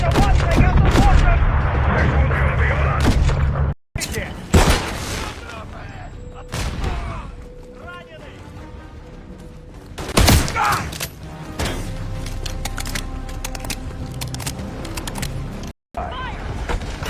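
Rifle gunfire in a shooting video game: loud bursts and rapid volleys of shots with booms and mechanical clatter, mixed with voices speaking throughout.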